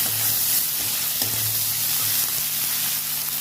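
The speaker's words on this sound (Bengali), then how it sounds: "পেঁয়াজটা ভেজে নিচ্ছি।" Chopped raw onions frying in oil, a dense continuous sizzle close up with faint stirring clicks underneath, steady and loud throughout with no voices.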